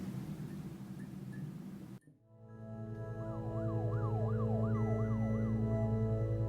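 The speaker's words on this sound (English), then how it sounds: "Did you hear the police car and the dimming of the screen there? That was in the game" After a sudden cut from noise, a video game police siren wails, rising and falling repeatedly over a deep steady engine rumble, growing louder.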